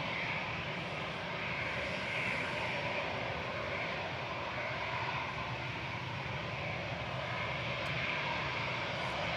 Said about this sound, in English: Shuttle 3 Lima departing now back to Heathrow.